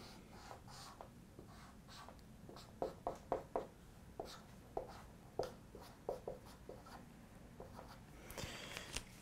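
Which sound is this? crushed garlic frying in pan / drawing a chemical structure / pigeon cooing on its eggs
drawing a chemical structure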